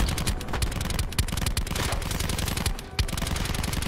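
Rapid automatic gunfire in Black Ops 4 multiplayer, dense bursts of sharp close shots with a couple of heavier booms, firing almost without pause.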